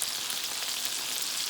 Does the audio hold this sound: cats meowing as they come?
no